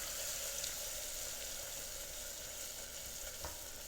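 Homemade caramel topping bubbles and hisses faintly in a pot while being stirred, a soft, continuous fizz with an occasional small pop.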